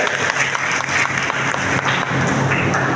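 An audience claps to welcome an IPS officer at a community gathering honouring meritorious students: dense, loud, sustained applause from a crowd that fills the whole stretch without a break.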